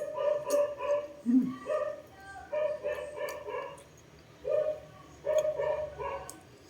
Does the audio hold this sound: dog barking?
yes